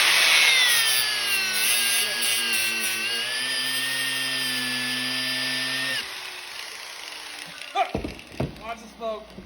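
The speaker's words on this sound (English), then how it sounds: "I got my Craftsman freaking angle grinder, and we're just going to let her rip." A Craftsman angle grinder cuts into a foam-filled lawn mower tire with a loud, sustained high-pitched whine that shifts in pitch as it bites, then cuts off into scattered rubbing and clatter.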